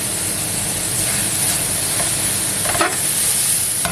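Caramelizing apple slices with cinnamon are stirred in a pan, a steady sizzling hiss running throughout with a few scraping strokes of the spoon, close and moderately loud.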